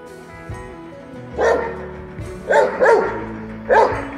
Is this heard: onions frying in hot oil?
no